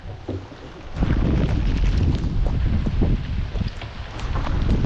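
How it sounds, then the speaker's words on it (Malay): Strong wind buffets the microphone on a fishing outing for sea bass near a boat on open water, a loud continuous low rumble that holds steady for several seconds after a brief quieter start. "Angin kuat."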